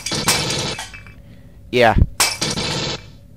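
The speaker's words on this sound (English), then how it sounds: "first you gotta break the glass here" Glass breaking in the video game Aliens vs. Predator comes as short, sharp crashing bursts with game sounds around it, while someone speaks briefly.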